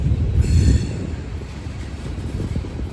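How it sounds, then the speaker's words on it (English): Freight train with a Union Pacific boxcar rolling past on the Old Rat Hole Line in Kentucky, a steady close low rumble of wheels on rail with a brief faint squeal. "There's a bright, shiny Union Pacific boxcar."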